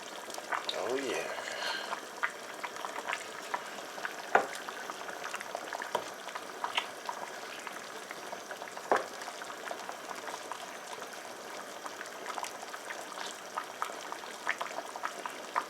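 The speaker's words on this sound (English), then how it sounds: "We can let this simmer for a further 10 minutes or so, and the soup is done." Light soup with lamb, squid, baby rice crabs, mussel meat and yellow croaker simmers in a pot, giving a soft, steady bubbling with scattered small pops, faint and close, while a person talks over it.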